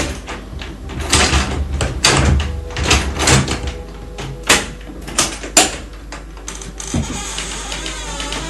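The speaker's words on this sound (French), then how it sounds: "Je vais ouvrir cette porte." A door is handled and opened, with a run of sharp clunks, rattles and knocks over a steady background hiss, ending in a creaking scrape.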